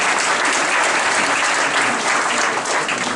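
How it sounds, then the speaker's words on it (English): Audience applause at a school Guru Vandana function honouring teachers: dense, steady clapping from a large crowd, loud and sustained throughout with no pause. "a huge applause to all the great school teachers"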